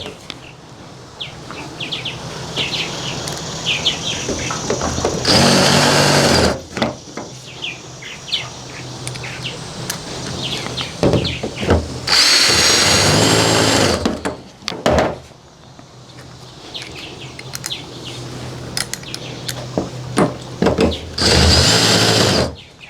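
Power drill driving screws into a Suncast 170-gallon plastic dock box, three loud bursts of whirring and ratcheting separated by quieter handling noise and faint background chirps.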